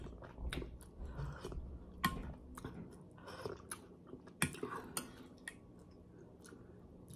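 Close, wet chewing and crunching of chicken tinola with papaya during a Filipino mukbang, irregular bites and smacks throughout with no talking.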